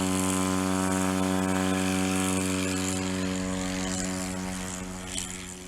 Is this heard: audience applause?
no